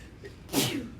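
One short, sharp sneeze from a person in a classroom math review, a quick inhale followed by a bright burst, moderately near against quiet room tone.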